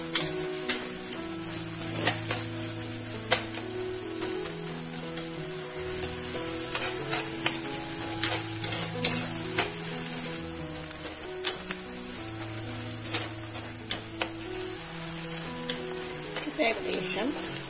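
Fish curry base made without coconut being sautéed in a pan: a continuous close sizzle with intermittent stirring scrapes and taps, running under a person talking.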